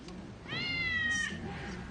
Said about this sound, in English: A remote-controlled feline whine